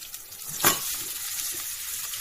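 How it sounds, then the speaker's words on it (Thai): Kohlrabi with egg sizzling in a hot pan, a steady frying hiss with one sharp spatula scrape early on, close and continuous. "จะผัดไข่จ้ะ"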